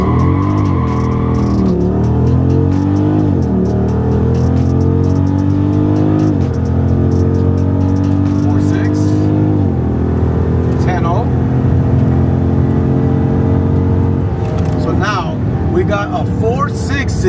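Car launching off the line and accelerating hard on Nitto NT555 G2 street tires, the engine climbing loudly through rising gear pulls with brief shift breaks, close and continuous throughout.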